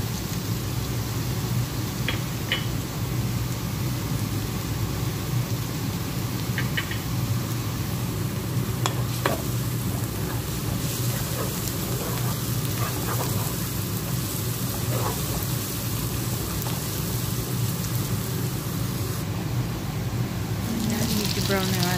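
Garlic and onions fry in a pan for a Filipino-style cooking of red lentils with rice, giving a steady, dense sizzle like rain that runs throughout with a few faint clicks of utensils on top.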